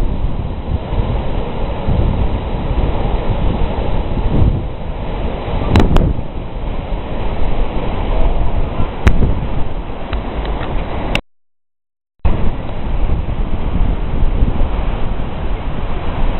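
Steady wind and rolling surf at Praia do Santinho, a long clean beach in Florianópolis, Santa Catarina, a continuous loud wash of waves with microphone wind buffeting and a brief dropout.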